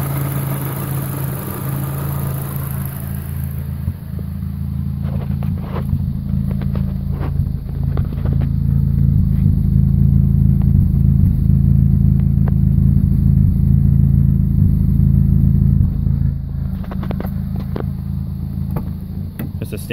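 A supercharged 2.2L L61 Ecotec engine with a MagnaFlow exhaust runs loud and steady nearby, a deep throbbing drone that builds in intensity midway, with occasional clicks and a slight drop near the end.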